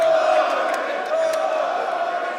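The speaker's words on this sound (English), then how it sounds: "And you can hear the crowd." A live arena crowd cheers and roars at the Rainbow Six Siege esports major finals in Atlanta, a sustained swell of voices with a commentator talking over it.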